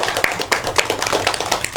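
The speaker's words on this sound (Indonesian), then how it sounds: "Tepuk tangan dulu untuk kita semua." A classroom group of students claps together in quick, steady applause for a couple of seconds, fairly close.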